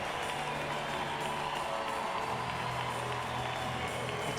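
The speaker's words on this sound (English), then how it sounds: "And the crowd applaud." A crowd applauds at Paralympic judo in Rio, a dense, steady wash of clapping and cheering from a large arena audience filling the whole stretch.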